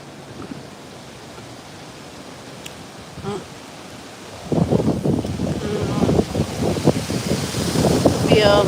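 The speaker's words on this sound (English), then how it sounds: "Feel the wind." Wind blows across a microphone outdoors: a soft, steady hiss at first, then a much louder, continuous low buffeting rumble that stays strong through the rest of the clip.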